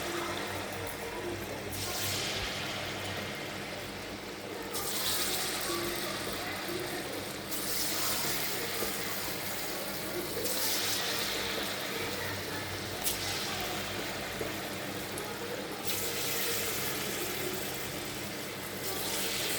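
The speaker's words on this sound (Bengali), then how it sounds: "এখানে তেলও গরম হয়ে গেছে, এখন এক এক করে বড়াগুলো ভেজে নেব।" Palm fruit fritters (taler bora) deep-fry one by one in hot oil, producing a loud, continuous bubbling hiss that swells in bursts every few seconds as more batter goes in.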